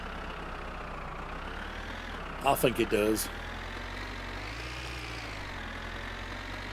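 A tractor engine idles in the video game My Winter Car, a steady low mechanical drone running the whole time, with a short spoken phrase breaking in over it partway through.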